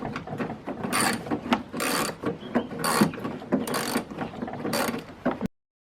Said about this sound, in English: You need an extension and a long socket, or two extensions, or a longer extension and a shorter socket to get these.